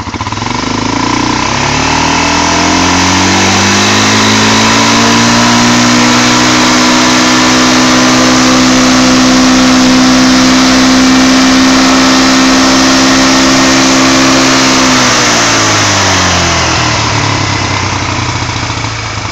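A loud engine fitted with a balance shaft revs up, holds a steady high pitch for about ten seconds, then winds back down, with heavy broadband roar throughout.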